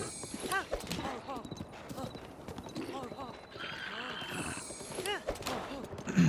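Horse hooves in Breath of the Wild clop in a steady rhythmic gait, moderately close, with a whinny and creaking tack sounds, all under continuous talking.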